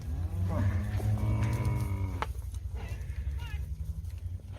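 Several heifers and older cows moo in a ranch pen, long low calls overlapping near and far, with more lowing and shuffling behind.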